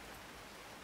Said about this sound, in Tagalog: Makita niyo ang paligid, umuulan siya.